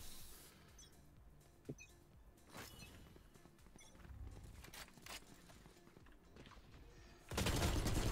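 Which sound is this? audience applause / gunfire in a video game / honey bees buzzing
gunfire in a video game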